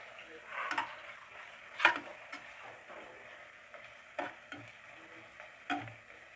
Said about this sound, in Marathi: याला पण कांद्यामध्ये छान फ्राय करून घेऊ.